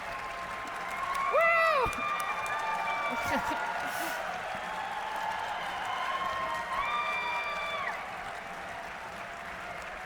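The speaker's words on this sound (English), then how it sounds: "Good use of the clapping hands" Audience applauding and cheering at a cosplay contest, with a loud whoop early on, steady clapping and crowd noise throughout the event, and a presenter's voice speaking over it.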